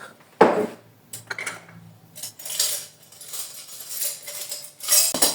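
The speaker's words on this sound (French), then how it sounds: "Essayer de voir pour mettre les petites cuillères à café là-dedans" Small metal teaspoons clink and rattle as they are dropped into a gold utensil pot, a sharp initial clatter followed by several lighter scattered clinks and jingles close by.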